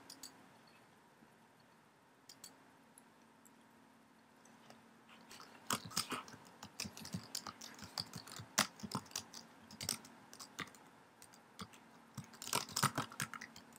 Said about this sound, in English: dang, my typing's not very good.